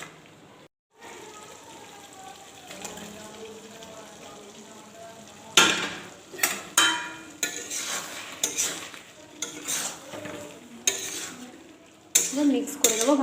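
Fried potatoes are stirred into chicken curry in a pan, quiet low sizzling at first, then sharp bursts of a spoon scraping and clattering against the metal in an irregular rhythm, close up.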